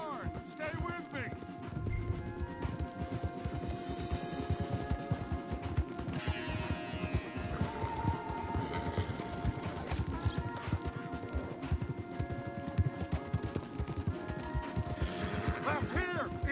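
Several horses gallop hard through Red Dead Redemption 2, a steady stream of clip-clop hoofbeats with occasional rattles, mixed under music and voices for the whole stretch.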